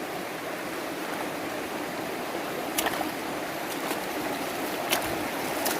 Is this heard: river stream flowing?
yes